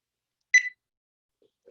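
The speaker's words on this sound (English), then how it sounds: "Let me start the timer." A workout interval timer sounds one short, sharp beep, followed by faint small blips, in an otherwise silent indoor space during a BJJ-style exercise session.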